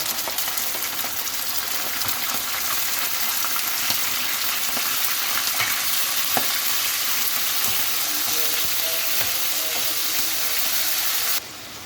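Steady, dense sizzling of chicken liver frying in a hot pan, loud and close, with faint stirring scrapes and no talking, cutting off near the end.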